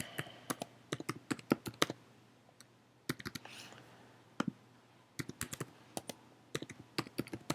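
Computer keyboard typing in irregular bursts of sharp, close clicks with short pauses between runs, no voices.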